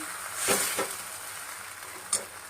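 A sauce with cornflour mixture is stirred in a pan, giving a steady close sizzle with a few scraping strokes of the spoon.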